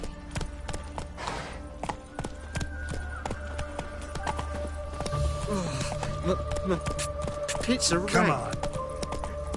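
Roach, a horse in the video game The Witcher 3, gallops with rapid rhythmic hoofbeats under in-game sound, while a player talks over it at intervals.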